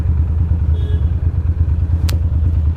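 Motorcycle idling and rumbling low and close as it is parked next to another bike on a cold, dark New York City street, with one brief sharp click partway through.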